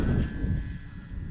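An RC model airplane engine drones steadily through a short takeoff run, a fairly loud continuous whine over low rumble and wind, with no voices.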